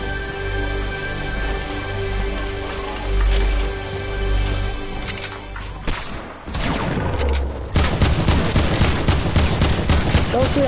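Video game gunfire, with a steady background roar that gives way to rapid, loud bursts of automatic shots in quick succession during the last few seconds, close and dominant.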